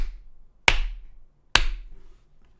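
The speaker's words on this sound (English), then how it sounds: "Slow clap." Two slow, sharp hand claps close to the microphone, almost a second apart, each ringing briefly before fading into quiet.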